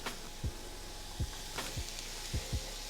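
Onions and peppers sizzle in a skillet with a steady, close hiss, while a utensil stirs and scrapes through them about six times at uneven intervals.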